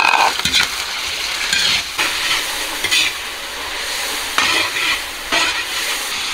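Pork belly fries over high heat in a pan with scallion and ginger while a spatula scrapes and tosses it, giving steady sizzling broken by several sharp, close stirring strokes. No one talks.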